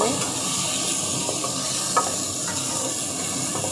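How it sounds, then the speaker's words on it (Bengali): Rice frying in a pan as it is stirred for homemade fried rice, a dense continuous sizzle with a few faint scrapes and one small knock, steady and close with no clear talk. "চাউলটা দিয়ে দিচ্ছি, এখন একটু সুন্দর করে নাড়াচাড়া করে একটু ভাজা নেব"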